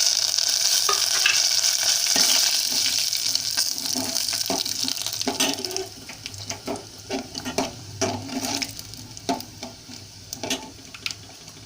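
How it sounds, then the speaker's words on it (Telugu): Chana dal and dried red chillies fry in hot oil for a tamata pappu tempering, giving a steady close sizzle that thins after a few seconds into scattered crackles and pops along with stirring clinks. "పచ్చిశనగపప్పు వేస్తున్నానండి. ఎండుమిరపకాయలు కూడా వేస్తున్నానండి."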